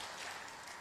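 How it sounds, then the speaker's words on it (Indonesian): An audience at a political speech claps, a short, faint, even burst of dense applause heard from some distance. "Boleh tepuk tangan lagi boleh."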